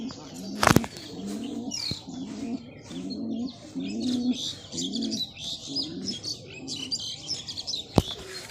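Pigeons coo in a steady, repeated rhythm close by in the early morning, with bright chirps from small birds overhead and a couple of sharp knocks.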